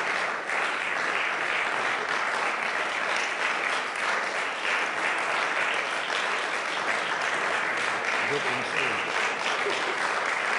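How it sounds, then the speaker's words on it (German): Audience applause at a German federal award ceremony for Angela Merkel's Order of Merit, steady dense clapping from a large crowd lasting several seconds with faint voices underneath. "Jetzt können Sie noch mal klatschen."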